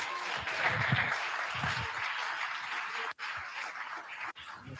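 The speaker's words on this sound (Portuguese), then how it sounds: "Aplauda o Senhor Jesus." A church congregation claps in a steady, dense wash of applause throughout, with two brief abrupt dropouts, filling the room at moderate loudness.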